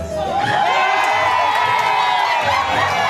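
A crowd cheers and shouts at a beach tennis match, a loud, continuous roar of voices and whoops rising and swelling with rhythmic chanting pulses underneath.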